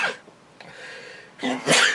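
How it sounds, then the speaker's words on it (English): A single sharp sneeze bursts out near the end after a quiet, breathy stretch, loud and close. "See how happy I am to be there? I'm sneezing."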